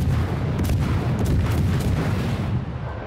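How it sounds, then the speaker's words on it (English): Torpedo hits exploding against a ship in World of Warships, a sustained, loud, rumbling blast with dense low boom and crackling debris that holds steady for about three seconds before easing slightly. "Somebody got him with torpedoes."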